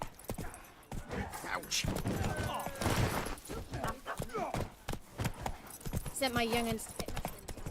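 The horse Roach gallops in The Witcher 3, its hooves beating in a quick clip-clop rhythm that runs under a voice and other game sounds.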